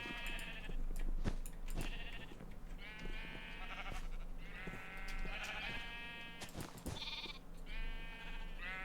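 Sheep in a Minecraft game bleating repeatedly, several wavering baa calls close by, separated by soft clicks and faint background tones.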